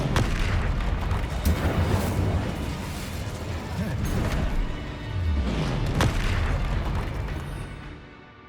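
Incendio fire spell cast in the video game Hogwarts Legacy, booming bursts and whooshing impacts among other combat sounds, moderately loud and fading out at the end.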